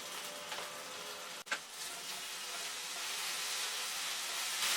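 Chicken egg foo young fries in a pan with a steady, soft sizzle that grows slightly louder, broken by a brief clatter partway through as it is flipped.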